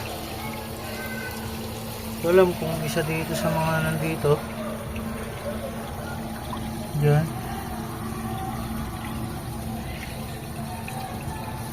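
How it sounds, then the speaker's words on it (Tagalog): Water spills and trickles out of a hole in a crayfish grow-out tank, a low, steady liquid running sound beneath someone talking nearby, with a few brief louder splashes. "tumatapon yung tubig"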